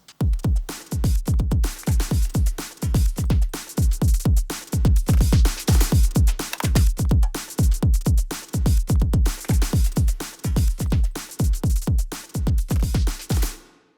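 A drum mix programmed on a Synthstrom Deluge, with punchy kick, snare, hi-hats and extra percussion in a steady repeating groove, loud and up close with no voices.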